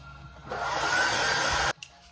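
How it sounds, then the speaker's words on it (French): A hair dryer blows steadily at close range for about a second and a quarter, drying freshly painted CDs, then cuts off abruptly, leaving a brief faint rustle. "J'ai le sèche-cheveux."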